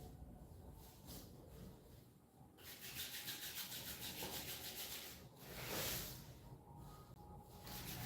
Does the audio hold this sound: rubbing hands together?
yes